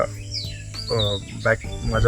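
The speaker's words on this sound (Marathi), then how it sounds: "बॅकग्राऊंडमध्ये आवाज येत असेल बघा वेगवेगळ्या पक्ष्यांचे." Bird calls ring out nearby, a few swooping whistles and chirps over a constant insect drone.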